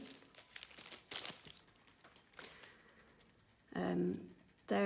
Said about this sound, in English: Sorry for any crinkling there.